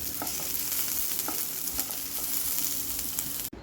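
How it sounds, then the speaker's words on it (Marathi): Ingredients, including garlic cloves, dry-roasting in a pan until brown for a Vidarbha-style maasvadi, with steady stirring scrapes and a constant frying hiss running throughout, close and fairly loud, with no talk. "याला पण ब्राऊन असा कलर येतपर्यंत भाजून घ्यायचे"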